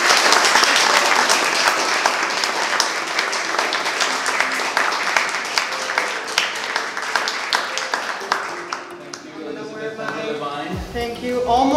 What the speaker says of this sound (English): let's have a big round of applause for Ellie